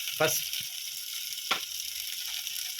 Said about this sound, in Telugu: తిప్పేది వినండి ఫ్రెండ్స్